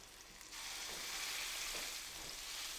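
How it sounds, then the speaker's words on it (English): Beef for Beef Wellington sears in a hot pan, pressed down to form a crust, with a loud, continuous sizzle that jumps up suddenly and holds steady, close and crackling. "you're going to sear the beef on both sides"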